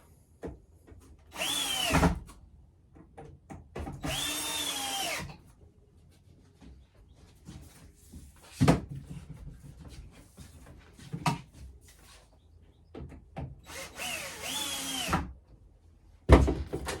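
Power drill tightening fixings on a UCS Millennium Falcon model: short whirring bursts of the drill motor, each a second or two long, separated by quiet handling clicks and knocks, close up.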